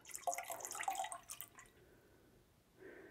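Fragrance oil poured into a pot of candle wax for test candles, a quiet trickling, dripping pour lasting about a second and a half before fading, with a faint later splash of movement.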